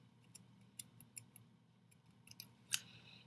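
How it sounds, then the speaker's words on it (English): Quiet, crisp snips of scissors cutting yarn, several quick clicks in an uneven rhythm, close up with near silence between them. "take your scissors, and cut"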